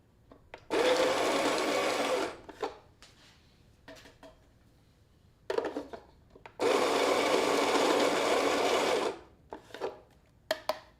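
Coffee grinder running on a very fine setting, two long loud grinding bursts with short clicks and handling noises between them.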